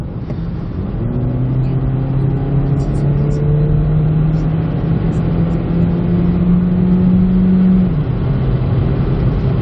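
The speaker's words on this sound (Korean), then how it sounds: "사실 그렇게 듣기 싫은 엔진 소리는 아닙니다" Kia Niro hybrid engine pulling steadily under acceleration, a loud continuous drone with a rising tone that holds for several seconds before easing, joined by constant road and tire noise, with no talking.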